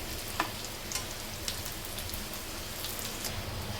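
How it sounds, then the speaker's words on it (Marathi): Vegetable burger tikki patties frying in oil until crispy, a soft steady crackle with scattered small pops, fairly quiet and close. "क्रिस्पी होईपर्यंत आपल्याला ह्या टिकी तळून घ्यायच्या आहे।"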